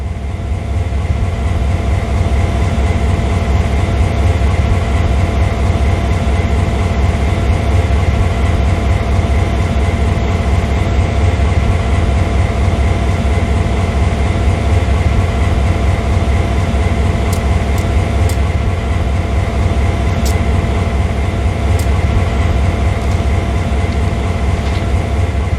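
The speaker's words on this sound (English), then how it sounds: "Known as a GP38-2, it packs an efficient 16-cylinder diesel-electric motor able to" Steady diesel drone of a GP38-2 diesel-electric locomotive with a 16-cylinder, 2,000-horsepower engine in the game Train Sim World 2, idling loud and constant throughout with a few faint clicks near the end.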